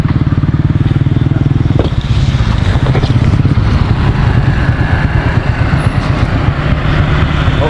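A motorbike engine runs close by with a rapid, buzzing putter, dropping slightly in pitch after a couple of seconds and then idling on in a rough, steady drone.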